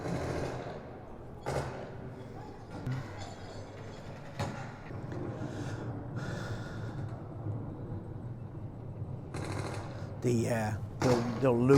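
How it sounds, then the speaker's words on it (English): A recorded gunfight sound effect playing in an exhibit at the Airborne and Special Operations Museum, with scattered sharp shots and bursts heard fairly faint and at a distance beneath people talking nearby. "Hear the gunfighting?"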